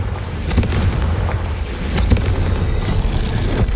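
Confringo fire spell in Hogwarts Legacy bursting in a dark corridor, a run of dull booming blasts over a steady low rumble, loud and close with several sharp thumps spaced through.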